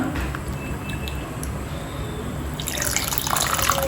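Dissolved tamarind water being poured into a pot of Madurai-style small-onion sambar, a steady close liquid splashing and trickling that grows brighter and more bubbly toward the end, with no speech.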